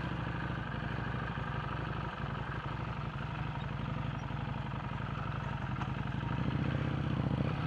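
A Harley-Davidson motorcycle rides through a forest in Punjab just after a water crossing, its engine a steady, close, loud rumble with clattering mechanical noise throughout and a slight swell near the end.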